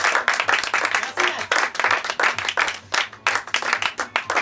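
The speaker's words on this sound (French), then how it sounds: "Un tonnerre d'applaudissements pour ma régisseuse son et lumière" Small Paris theatre audience applauding on closing night, with close, rhythmic bursts of clapping that swell and dip in pulses throughout.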